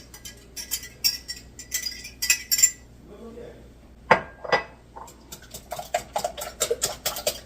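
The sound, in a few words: whisking eggs and cream in a bowl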